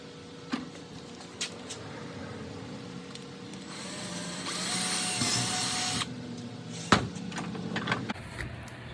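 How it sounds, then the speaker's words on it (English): A power drill bores holes in plastic bottle caps for a fishing jug, a steady whirring hum that grows louder mid-way, with occasional clicks and clatter of handling. "go ahead and drill those out so that we can put our eyelet through it"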